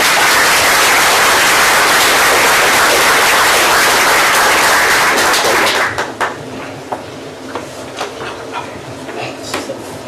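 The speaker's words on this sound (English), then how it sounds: "Let's just give them another round of applause." A board meeting audience gives a loud round of applause that fills the room for about six seconds. It then breaks off into scattered claps, shuffling and faint talk.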